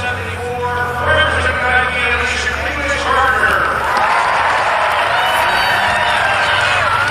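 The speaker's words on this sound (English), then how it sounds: "Listen to the crowd." A stadium crowd roars steadily in cheers and whoops during the Olympic trials women's sprint final at the University of Oregon, a dense, loud wash of voices that swells and holds throughout.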